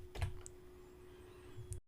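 Keys on a computer keyboard are tapped while a font name is typed into a search field, a few quiet, close clicks spread unevenly over a second or two.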